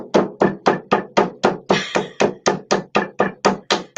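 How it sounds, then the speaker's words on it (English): A meat tenderizer hammer pounds a clay slab down in a quick, even series of about fifteen sharp thuds, loud and close, with no talk. "I take this tool over here that's a meat tenderizer, but it's also a hammer. And I pound it down."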